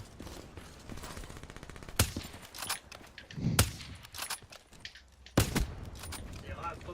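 Sniper rifle and other gunfire in a first-person shooter, several sharp, loud shots standing out from quieter in-game footsteps and mechanical clicks, with faint talking alongside.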